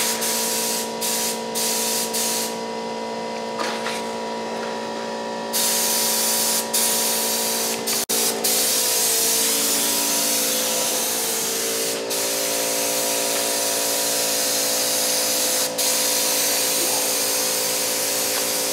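A spray gun lays a second coat of International Harvester paint onto a Super M tractor, a steady, loud hiss running continuously throughout with brief breaks and bursts where the trigger releases and resumes.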